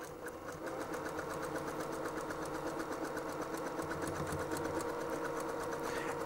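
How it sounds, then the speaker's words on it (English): A sewing machine runs steadily, back stitching a seam on border-print PJ pants at a slowed pace, giving a continuous even mechanical whir with a rapid regular rhythm, close and moderately quiet. "Notice the pace I'm stitching at is definitely slowed down."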